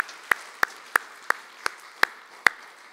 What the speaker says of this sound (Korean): 다시 한번 우리 큰 박수 한번 보내주시기 바랍니다.